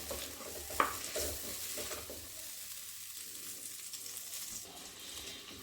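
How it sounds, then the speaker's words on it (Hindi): A ladle stirs spice masala for black chickpeas in a pan of hot ghee or oil, giving soft scraping strokes over a faint, steady sizzle, heard close with no talking. "अब हम मसाले को अच्छे से कड़छी से हिला लेते हैं"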